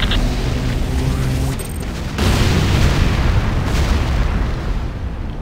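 Heavy booms and blasts from an airstrip attack in a combat video game, a dense, continuous roar of explosions that swells and stays loud throughout.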